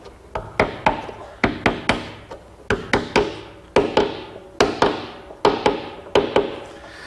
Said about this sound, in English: Carefully tap the patch into place with a scrap piece of wood.